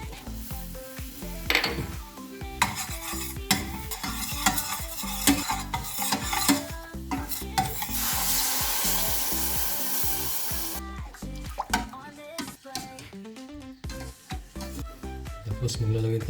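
Flour is stirred into melted butter in a pan, with a spoon scraping and rubbing steadily against the metal over a soft sizzle, close and continuous.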